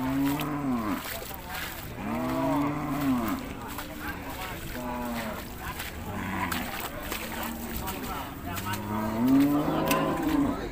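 At the Sikhoraphum cattle market, cattle and water buffalo give repeated low, drawn-out moos at moderate distance over a steady outdoor background.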